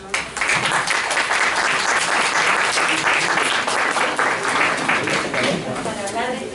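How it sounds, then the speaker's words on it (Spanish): Sustained audience applause at a book event with an author, dense and steady clapping throughout at close range, with some voices mixed in beneath it. "Yo creo que sí merecemos un aplauso."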